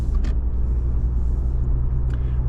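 A 2023 Subaru Impreza Sport cruising on the road, heard as a steady low cabin rumble of engine and tyre noise, continuous and close throughout with no talking.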